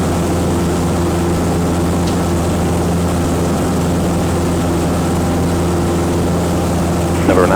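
A small propeller aircraft sits on runway 34 left at Renton airport, its engine a loud, steady close-up drone that holds evenly throughout.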